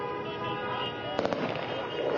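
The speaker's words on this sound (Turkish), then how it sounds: "Her noktadan silah sesleri duyuyoruz." Celebratory gunfire in Damascus: a cluster of sharp, close cracks bursts out about halfway through, over a steady din of outdoor crowd noise.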